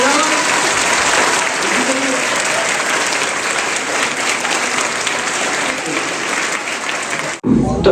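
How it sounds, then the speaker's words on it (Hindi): Loud, sustained applause from an audience at a motivational lecture fills the space steadily for several seconds before cutting off abruptly. "जोरदार ताली बजाओ।"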